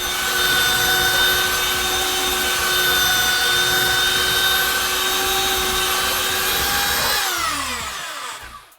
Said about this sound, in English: So I'm going to use a belt sander.